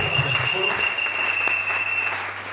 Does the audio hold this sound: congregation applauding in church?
yes